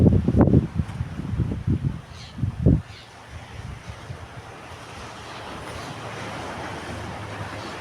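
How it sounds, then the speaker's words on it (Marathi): Sea waves wash along a rocky shore, a steady broad hiss of surf under heavy wind buffeting the microphone, with stronger thumping gusts early that settle into a softer, even rush. "कधी लाटा संत होतात कधी जोरात होतात"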